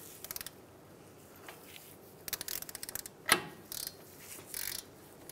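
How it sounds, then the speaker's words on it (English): A ratchet tightens the castle nut on the outer tie rod end of a 2007-2015 Mazda CX-9, with bursts of quick clicking pawl strokes separated by pauses and one sharper metallic clank, close but fairly quiet. "Now that we have our outer tie rod end into the knuckle, we're gonna go ahead and tighten down our castle nut."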